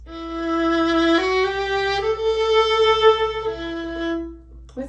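A violin played quietly without a mute sounds a few sustained, singing notes with clear, bright tone, stepping up and then back down in a short, gentle phrase.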